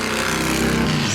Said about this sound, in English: Though there's a lot of loud motorcycles going by.